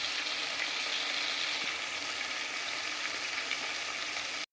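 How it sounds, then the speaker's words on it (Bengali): Masala spice paste fries with salt under a lid in a pan for a desi chicken curry, giving a steady, even sizzle that holds at one level throughout and stops abruptly at the end. "নুন দিয়ে আর ঢাকা দিয়ে মশলাটাকে আমরা ভালো করে ভেজে নিচ্ছি।"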